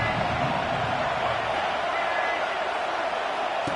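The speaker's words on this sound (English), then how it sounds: "This crowd ready to make its presence known" A steady roar from a stadium crowd in the College Football 26 video game fills the scene, dense and continuous with faint cheering beneath a commentator's talk.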